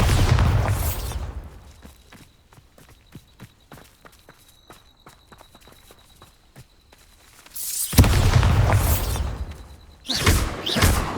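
Bombarda spell explosions in Hogwarts Legacy, a loud booming blast with a rumbling tail, then a stretch of quick light footstep-like taps and a faint tone, then two more heavy blasts close together.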